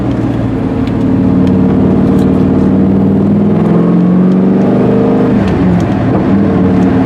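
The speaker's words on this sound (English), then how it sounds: "Got a lot more popping out of the exhaust on upshifts and downshifts." An LS V8-swapped Porsche 944 drives along with a loud, steady engine drone from inside the car, revs rising and falling through shifts with faint crackles from the exhaust, no voices.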